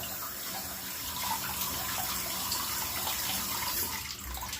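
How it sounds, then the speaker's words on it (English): Water runs steadily from a tap while a brush is rinsed out, a continuous close hiss and splash with no talking. "So at this point I'm going to wash out the brush, bit of water."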